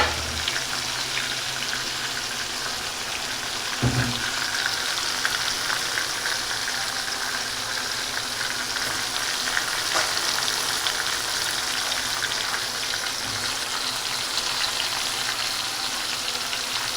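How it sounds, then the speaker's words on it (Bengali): Turmeric-tinted water goes into spices frying for a Gobindobhog rice khichuri, with a short splash and a thump near the start over a continuous, even sizzle that carries on alone. "এইখানটা কিন্তু হলুদ গোলা জল কিন্তু এটাও দিয়ে দেবো"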